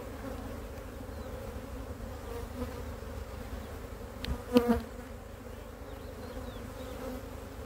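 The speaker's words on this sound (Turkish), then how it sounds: "Şimdi buradaki arıyı da tekrar buraya silkeliyorum." A dense, steady drone of many honey bees fills the air as a beekeeper shakes them back into a hive during colony splitting. A brief louder rustle and thump come midway.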